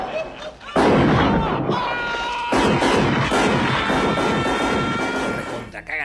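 Heavy gunfire in the 1987 RoboCop death scene comes as loud, sustained bursts of shots with dense booming blasts, broken by a brief lull, with voices faintly under it.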